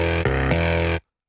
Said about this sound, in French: Nous pouvons ensuite passer à une étape de traitement avec un simple chorus